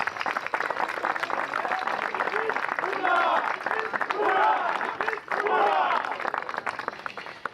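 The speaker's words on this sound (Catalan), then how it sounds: "Un aplaudiment per Eduard." Audience applause at an outdoor gathering, a crowd clapping steadily for several seconds while a voice speaks over it.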